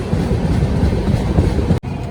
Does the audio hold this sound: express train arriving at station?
yes